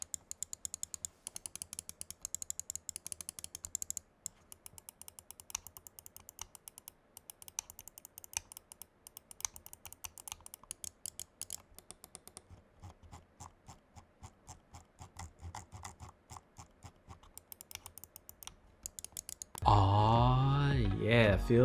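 A Razer Orochi V2 wireless mouse gives rapid, close clicks and scroll-wheel ticks in dense bursts for about twenty seconds, quiet and crisp, then a brief louder unrelated sound at the end.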